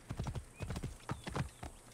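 Horse hooves in the video game Assassin's Creed Origins clip-clop in a brisk, uneven gallop at close range, loud thuds repeating across two seconds, with a faint whinny-like tone in the background.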